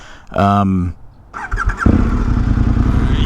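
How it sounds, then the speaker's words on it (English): A KTM 1290 motorcycle engine fires up close by after a brief squeal and then settles into a loud, throbbing idle with a rough, steady pulse. "we're going to take it for a ride and see exactly why this motorcycle is terrifying"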